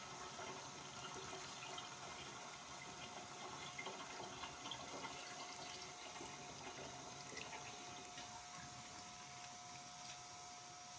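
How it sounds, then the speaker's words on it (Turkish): Water is poured from a jug into a water carboy, a continuous, faint splashing rush that stays steady and even from start to finish. "Sürahimizle damacanamıza su ekleyebiliriz bu şekilde"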